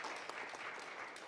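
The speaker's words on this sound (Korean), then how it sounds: "다시 한번 수고했다는 박수 좀 부탁드리겠습니다." An audience at an environmental forum on voluntary carbon reduction markets claps steadily, a dense, even patter of many hands, moderately distant and without talk.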